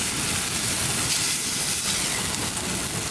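Walleye fillets fry in butter in a pan, giving off a close, loud and steady sizzling hiss that continues evenly without pause.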